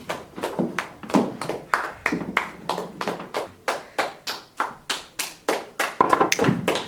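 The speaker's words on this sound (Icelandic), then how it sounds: "Byrja að klappa." A group claps hands in a steady, evenly spaced rhythm, about three sharp claps per second, moderately loud and near, with a brief voice near the end.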